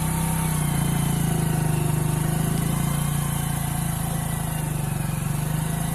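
A motorcycle engine runs steadily and loudly at close range during riding practice, a continuous low throbbing drone with no breaks and no talk over it.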